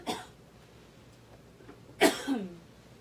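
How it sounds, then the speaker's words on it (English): Two brief throaty coughs from a person, one short and faint at the start and a louder, sharper one followed by a smaller catch, against a quiet room. "Excuse me for the coughing."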